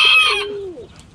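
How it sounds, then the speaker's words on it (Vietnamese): A small rooster crows loudly and close by, one full crow that starts harsh and bright, then trails into a long falling note and fades out. "Con gà này nó nhỏ mà nó gáy lớn ghê luôn"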